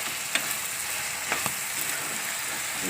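Vegetables fry in oil for a peas and black-eyed bean curry, giving a dense, even sizzle close at hand. A few faint clicks from stirring rise briefly above the constant hiss.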